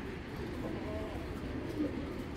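A giant brown-necked male pigeon of the 61 kilo breed gives soft, low coos close by, partly blended with a steady background murmur and some voices.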